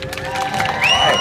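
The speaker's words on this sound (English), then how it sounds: "They can still hear your round of applause." Audience at a fair comedy hypnosis show breaks into applause and cheering, a dense crowd roar with scattered shouts and clapping that swells louder toward the end; a voice whistles or calls out over it.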